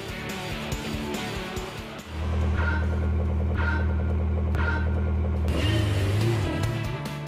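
A racing car's engine in Gran Turismo drones steadily, surging as it accelerates and then easing off the throttle while threading around cones, with a sustained low hum and a shift in pitch near the end.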